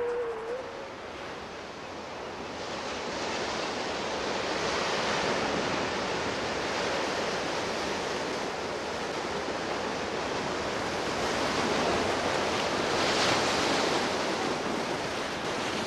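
Winter ocean surf breaks on the shore, a continuous broad roar of crashing waves that swells and recedes, with a faint wind rush and no voices.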